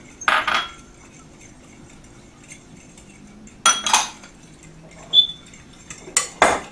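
Utensil beating a mixture for stuffed bell peppers in a bowl, heard as a few separate bursts of clinking and scraping against the dish, with quiet gaps between them.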